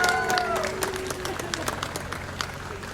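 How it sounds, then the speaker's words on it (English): An eager crowd at an outdoor talent show claps in a steady patter that fades slightly over a few seconds, with a voice talking over the start. "Very eager crowd tonight, clapping at everything."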